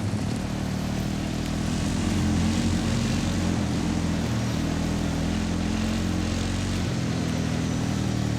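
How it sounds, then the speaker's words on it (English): Military drone flying in the Battlefield 6 video game campaign, a continuous droning propeller-engine buzz with layered low tones, steady and fairly loud throughout with no voices. "Get that drone in the air."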